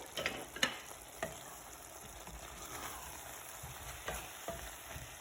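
Meatballs sizzle and fry in a tajine pot, a quiet, steady crackle with a few faint clinks from stirring.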